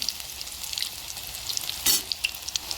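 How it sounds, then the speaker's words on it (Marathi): Coriander vadi slices shallow-frying in hot oil, a soft steady sizzle with faint crackles and a brief louder burst of spatter partway through, close and without talk. "तर आपल्या वड्या छान अशा तळतात."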